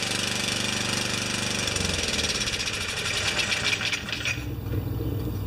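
A Craftsman snowblower engine runs steadily on full choke, a loud, continuous close-up chugging drone with a rapid uneven knock that wavers slightly near the end.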